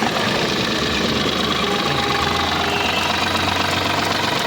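A 2016 Tata Tiago XZ car engine idles steadily and close, a dense, even mechanical hum with a faint knocking texture and no change in pitch.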